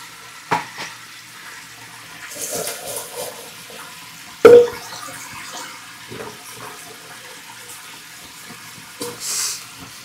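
Dishes and a milk pot being washed at a sink under running water, with intermittent splashes and clanks of metal vessels, including a sharp knock midway, over a steady faint water flow; no one speaks.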